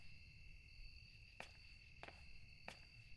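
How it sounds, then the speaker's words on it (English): Crickets chirp steadily in the Bite Nite indie horror game, a continuous high trill with no voices, broken by three brief faint clicks. "Are you guys hearing the crickets of the game?"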